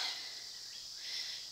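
Grasshoppers in a backyard wood pile give a faint, steady high-pitched buzzing chirr that swells slightly near the end, with no talking.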